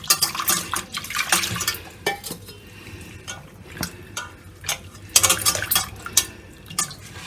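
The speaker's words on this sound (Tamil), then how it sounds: "இப்போ இது நம்ம தண்ணி ஊற்றி முடி ஏதாவது ஒட்டி இருக்கும், அதனால நல்லா அலசிக்கணும் 2-3 டைம்" Goat blood is rinsed with water in a kitchen. Splashing and running water mix with repeated clinks and knocks of a metal vessel, in a fairly loud and irregular clatter.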